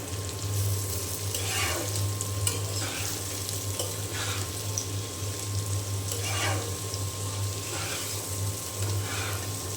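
Chopped papaya frying in mustard oil, giving a steady, close sizzle throughout with soft scraping strokes of stirring now and then.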